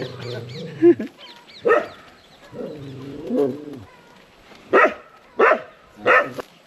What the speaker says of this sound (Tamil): அந்த மாட்டை பிடிச்ச உடனே நாய் பாருங்க எப்படி குலைக்குதுன்னு